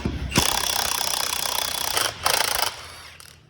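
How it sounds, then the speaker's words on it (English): A 1/2 inch impact wrench with a 1 1/8 inch socket hammers loose a yoke nut on a Jeep NP231 transfer case, giving a loud sustained rattling burst, a short pause, then another brief burst. "I take the 1/2 inch impact and the 1 1/8 inch socket, blow this sucker"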